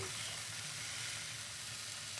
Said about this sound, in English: Is there anything more beautiful than a sizzling Boerewors on a hot